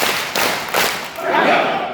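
An audience at a seminar at the Air Force Hotel claps. A couple of sharp thumping claps come first, then a swell of crowd applause fills the short moment at close range.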